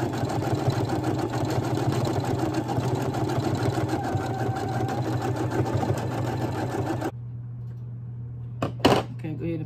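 A Brother embroidery machine stitches a key fob in a steady, rapid mechanical whir for about seven seconds, then stops abruptly, leaving a low hum and a brief clunk near the end.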